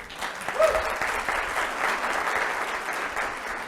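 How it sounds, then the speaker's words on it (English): An audience claps at a coastal lecture series in a library. The applause is sustained and evenly dense, with a quick swell near the start, and continues for the whole stretch with no voices over it. "The applause really belongs to all of you."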